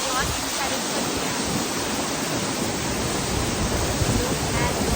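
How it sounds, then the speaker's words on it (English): A waterfall at Mt. Baldy in California, swollen after heavy rain, gives a steady, dense, close roar of rushing water that holds unbroken and loud for the whole stretch. "Right now I'm nearby the waterfall."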